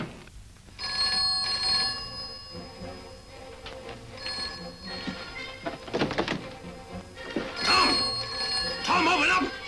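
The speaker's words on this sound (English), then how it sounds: "Don't answer that phone!" An old telephone bell rings in repeated bursts, with thumps and knocking between them and voices heard faintly in the background.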